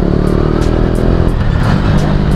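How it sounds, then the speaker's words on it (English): KTM Duke 250 motorcycle engine during a normal downshift, a loud close steady engine drone with a slight shift in pitch partway through, no talking. "I performed a normal downshift just now"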